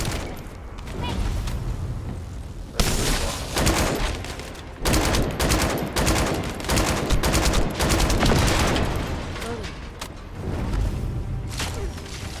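Dense video game battle sound from The First Descendant: rapid gunfire bursts and sustained energy laser noise, loud and continuous with a brief lull, while voices speak intermittently.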